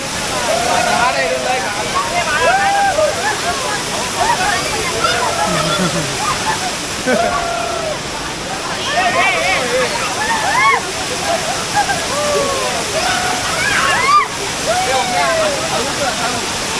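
A loud, continuous roar of a nearby waterfall in Navale village, Sindhudurg, fills the whole stretch, with people talking faintly beneath the rushing water.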